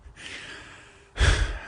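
Breathing straight into a microphone during a meditation session: a long, soft exhale followed by a louder, rushing breath close to the mic, with no speech.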